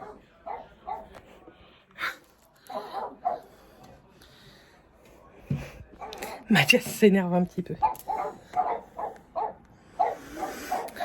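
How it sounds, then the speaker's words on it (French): Neighbours' dog barking in short, sharp bursts repeated through the clip, moderately close, mixed with someone talking nearby. "J'en peux plus du chien des voisins."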